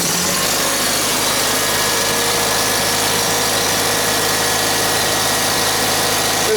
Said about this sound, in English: we'll give her a crank and see what happens